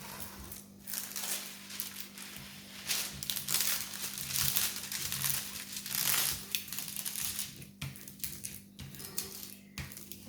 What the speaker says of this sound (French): Je vais remettre le plastique.